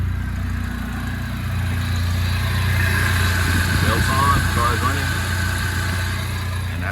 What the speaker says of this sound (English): Belts on, car's running.